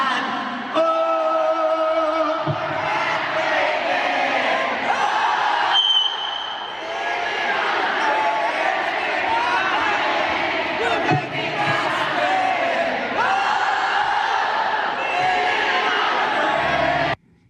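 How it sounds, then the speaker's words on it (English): At a concert, a large crowd sings along loudly and steadily for the whole stretch, a dense wash of many voices with cheers rising and falling. "lets the crowd sing along rather than try to hit those notes"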